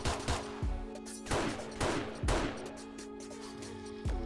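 A remote auto turret in the game 7 Days to Die fires a series of sharp, punchy shots at uneven intervals, each with a short ringing tail over a steady mechanical hum, with no talk.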